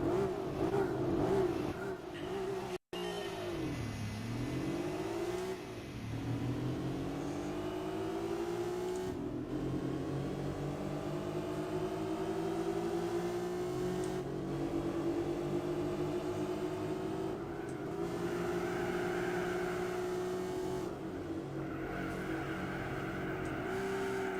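Racing car engines in the video game Gran Turismo 4 whine and rev continuously, with pitches dropping, then climbing through gear changes, loud and layered, with no voices.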